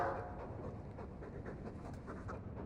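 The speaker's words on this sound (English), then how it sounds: "He's a sweet dog, Hawk." A dog in the video game Dragon Age 2 pants softly in quick, steady breaths, faint and even against a low background hum.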